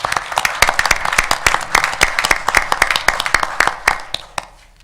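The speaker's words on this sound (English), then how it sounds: "let's give them a applause for a really nice season they had this year" A city council meeting audience in Romulus applauds the Eagles football team, steady dense clapping from many hands that holds strong, then tapers away at the end.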